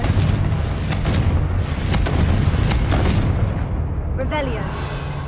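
Dense booming blasts of the Confringo fire spell in Hogwarts Legacy, a sustained roar of explosions filling the space, with a voice speaking over it.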